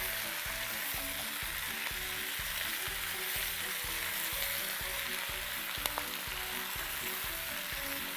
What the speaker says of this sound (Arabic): وهنحط الصلصه تاخد تقليبه كده، تقليبه صغيره